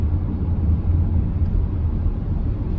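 Busy city road traffic, a continuous low rumbling drone of passing vehicles that holds steady and fairly loud from start to finish with no talking.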